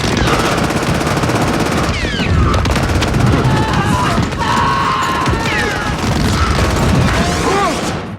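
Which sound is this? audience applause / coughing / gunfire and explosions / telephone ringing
gunfire and explosions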